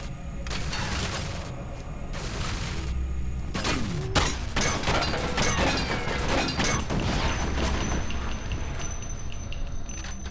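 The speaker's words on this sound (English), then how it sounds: "Couldn't figure out what was shooting at me, but there was a turret up at the top." Turret gunfire in the F.E.A.R. Perseus Mandate game: dense bursts of rapid shots and metallic clatter with booming impacts, fairly loud and sustained throughout.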